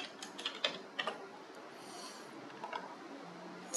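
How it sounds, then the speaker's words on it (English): Quiet computer keyboard typing, a few quick bursts of keystrokes with short pauses in between, heard alone at close range. "I'm going to just type in a location"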